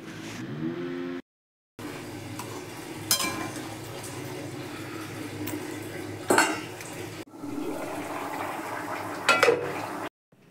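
Cauliflower florets go into a pot of half-boiled potatoes at a home stove, with steady bubbling and hiss from the pot, a few sharp clinks of a utensil against metal, and a brief pause in the middle.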